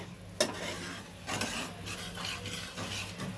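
Spice paste for a fish curry (pabda) frying in a kadai, heard as a close, steady sizzle with scraping stir strokes and one sharp clink near the start, no talking.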